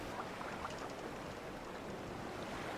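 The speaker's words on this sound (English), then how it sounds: "listen to the waves crashing on the shore" Soft ocean waves wash steadily onto a shore in Octopath Traveler game ambience, a continuous low surf with a faint airy hiss, calm and even throughout, with no music or voices.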